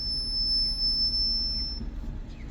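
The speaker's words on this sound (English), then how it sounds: "those are brakes" A Smart Fortwo with worn brakes gives off a steady high-pitched squeal that holds for about two seconds and then stops, over a low idling engine rumble, fairly close.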